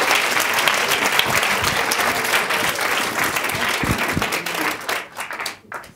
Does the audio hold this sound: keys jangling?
no